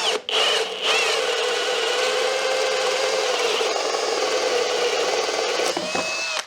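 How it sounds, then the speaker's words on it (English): Power drill boring holes through wood in a workshop, a continuous close whine and grinding rasp with brief pauses between cuts, no talk. "So I'll get on and start drilling all this out."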